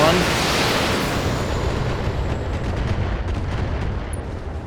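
A BattleTech mech unloads an alpha strike, its weapons firing together in a dense, roaring barrage of booming blasts that starts loud and slowly fades.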